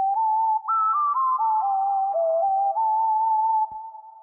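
Whistle-like sine-wave tone from a Predator synthesizer, a pure electronic note that slides and steps through a short wavering melody, sustained for several seconds before fading, with no talking.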